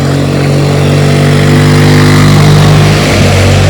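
A motorcycle rides through water on a flooded road during heavy rain, its silencer submerged. The engine drones loud and close throughout, and its pitch shifts lower toward the end.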